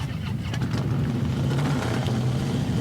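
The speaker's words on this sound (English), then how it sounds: "The roar of motorcycles could be heard around northern Colorado Saturday" Motorcycles in northern Colorado rumble loudly and continuously in a group ride for a world record attempt, a dense, close engine drone with no pauses.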